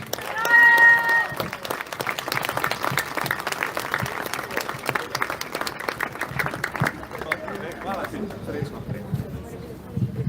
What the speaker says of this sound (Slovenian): še en aplavz vsem nosečim mamicam